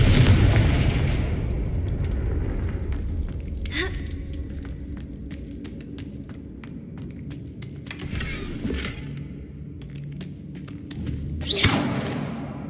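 Confringo blasting spells explode in Hogwarts Legacy, a video game: a rumbling boom at the start, then sharp bursts of crackling impact at intervals over a low, steady background din.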